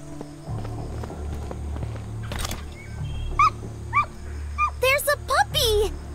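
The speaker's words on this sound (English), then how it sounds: "There's a puppy!" A puppy in the zombie-survival video game Doomsday: Last Survivors gives a few short, bright barks and yips near the end, rising over low game ambience and footsteps.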